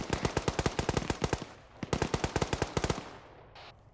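Video game firefight with bursts of rapid automatic gunfire, loud and close, broken by brief pauses and followed by a few single shots.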